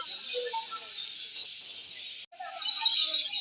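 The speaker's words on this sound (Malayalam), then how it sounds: "മൈസൂർ സൂവിൻ്റെ ഉള്ളിലൊക്കെ കടന്നാണ് ആദ്യം നമ്മൾ കാണുന്നത് ഒരുപാട് കിളികളെ" Many kinds of birds chirp and twitter inside Mysore zoo, a bright continuous chorus of high calls at moderate distance with a brief dropout near the middle.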